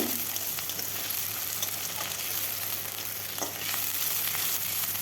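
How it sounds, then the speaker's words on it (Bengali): Potatoes sizzle in a pan with onion and green chili, a steady loud frying hiss with a few stirring scrapes and no talking. "পেঁয়াজ লঙ্কাটাকেও বেশ কিছুক্ষণ ভেজে নেব তারপর দিয়ে দেব কেটে রাখা আলু আলুটাও ভালোভাবে ভেজে নিতে হবে"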